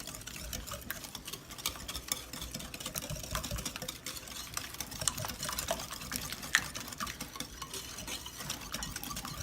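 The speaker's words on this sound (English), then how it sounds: "I'm not even going to use my mixer. I'm just going to use the whisk." Hand whisk beating a lemon zest and lemon juice muffin batter in a bowl, a steady, faint, rapid tapping and swishing that continues throughout without talk.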